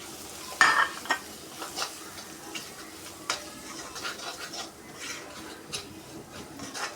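Beef frying with chili powder, garam masala and pepper in a pan, a low sizzle broken by repeated scraping and clinking strokes of a spoon as it is stirred, with no voices.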